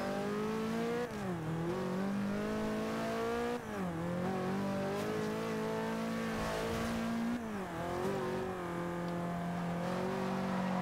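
A race car engine in Forza Horizon 2 roars loud and close throughout, revving up steadily and dropping pitch at several gear shifts, with faint tyre noise underneath.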